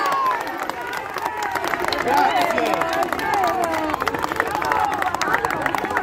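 Crowd of fans gathered around a singer in Naples applaud and cheer, a steady wash of clapping and excited voices with people talking loudly throughout.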